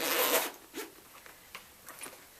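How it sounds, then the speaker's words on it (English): A boot zipper is pulled in one quick rasping stroke, followed by several faint short clicks and rustles of the zipper and boot material. "what you'll want to do is zip in one side of it"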